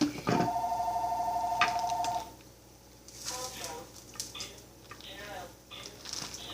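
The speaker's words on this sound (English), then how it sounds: "And my phone's ringing." A phone rings loudly and close by with a steady electronic tone for about two seconds in a kitchen during breakfast burrito cooking, then stops; faint kitchen clatter and a talking voice follow.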